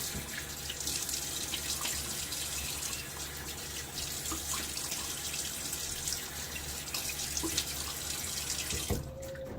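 Water running steadily from a tap into a sink while a razor is rinsed during a wet shave, a continuous close splashing hiss that stops abruptly near the end.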